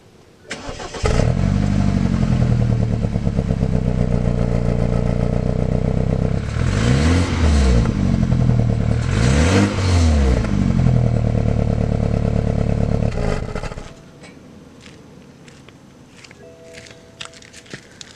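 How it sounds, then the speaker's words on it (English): Stock exhaust of a 2012 BMW 528i xDrive, loud and close, starting up and then revving hard twice with rising and falling sweeps over a steady idle, before settling to a quieter idle. "here's the stock exhaust sound for you guys"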